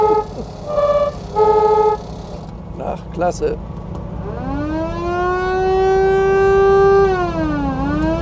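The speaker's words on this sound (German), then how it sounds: "Allein diese Tröte hier ist ja der Hammer." A 1949 VW Hebmüller Type 18A four-door police Beetle sounds its two-tone horn in repeated bursts, then its siren winds up, holds a rising and falling wail, and dips, loud and close, with a man's brief exclamation.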